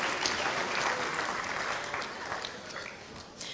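Audience applause fills a school spring band concert hall, a steady wash of clapping that holds for several seconds and slowly thins toward the end, with no talk over it.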